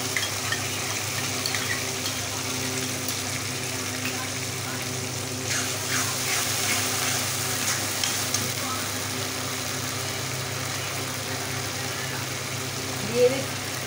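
Chili, ginger and garlic paste sizzles steadily in hot mutton fat with softening tomato and jackfruit, a constant close frying hiss with occasional stirring scrapes and no talk.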